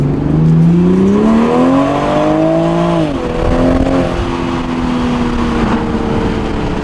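Stock car engine revving and accelerating through its stock exhaust, a loud, close, rising drone that swells for about three seconds, dips at a shift, then holds a steady note, with no talk over it.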